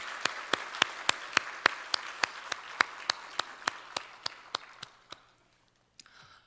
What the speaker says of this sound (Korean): 우리 영광 받으신 주님께 감사의 박수.